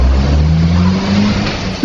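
A getaway car speeds off after a failed kidnapping attempt, its engine revving loudly nearby with a steady rising drone that holds for under two seconds.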